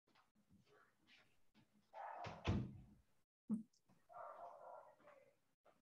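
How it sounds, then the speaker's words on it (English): A loud thump like a door shutting, with a brief knock-like rattle around it, set amid faint voices and a dog's bark in the background. "Let me shut the door."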